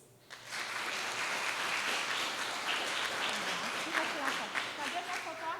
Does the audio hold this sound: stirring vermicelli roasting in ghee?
no